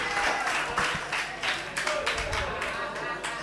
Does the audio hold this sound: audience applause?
yes